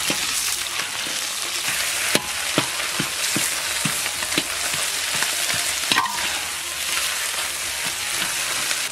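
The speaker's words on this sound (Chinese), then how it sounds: "煎好了，把鱼捣碎。" Pan-fried crucian carp is broken up in hot oil in a pan, a steady loud sizzle punctuated by repeated sharp knocks of the utensil striking the fish and pan.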